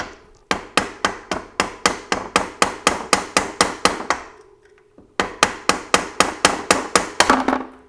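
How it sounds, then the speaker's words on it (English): A hammer strikes steadily and loudly on a bushing lodged in a Devinci Spartan mountain bike frame, about two dozen sharp metallic blows in two runs separated by a brief pause. "I'm just gonna hammer it out of there."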